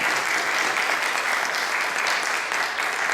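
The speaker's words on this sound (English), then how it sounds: "Let's give all of our candidates a round of applause" Audience applause for candidates at a school district candidate forum, a steady dense clapping from a seated crowd that holds evenly for the whole stretch.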